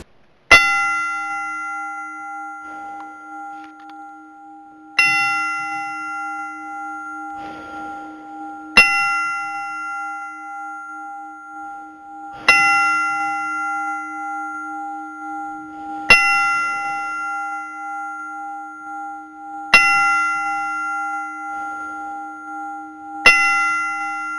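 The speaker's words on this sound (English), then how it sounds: "Let's give him a 10-bell salute." A wrestling show ring bell clangs in a ten-bell salute, sharp metallic strikes evenly spaced about every few seconds, each ringing out with a sustained tone over a quiet hall.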